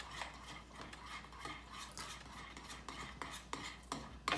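Slime being mixed by hand, quiet irregular squelchy stirring and scraping strokes repeating close by, soft and without speech.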